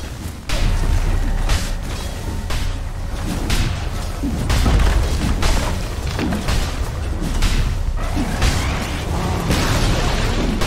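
Dota 2 match audio with a tower under attack and being destroyed: a dense, continuous clatter of booming impacts, crashes and bursts layered over game music, loud and steady throughout with no talk.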